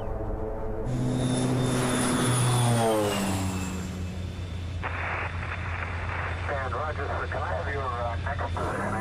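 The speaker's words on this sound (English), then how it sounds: "A workhorse bush plane, like this Turbo Otter, is built for short takeoffs and landings and for handling rough weather." The turboprop engine of a Turbo Otter bush plane in the Arctic roars and swells, then settles into a steady hum with rhythmic propeller beating, while a narrator talks over it.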